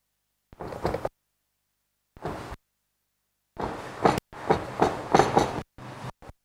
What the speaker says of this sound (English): I'm gonna chop my mushroom.